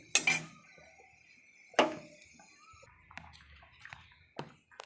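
Metal utensils clink against a pan as fried potatoes are lifted out, with a few sharp separate scrapes and knocks close by and quiet gaps between them.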